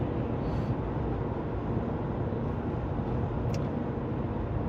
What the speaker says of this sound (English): there's a lot of traffic everywhere